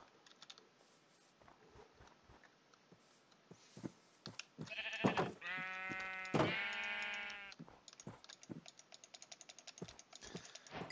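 Sheep in the game Minecraft bleat in two drawn-out, wavering calls in the middle, surrounded by rapid computer keyboard clicks and soft tapping before and after, with no talk.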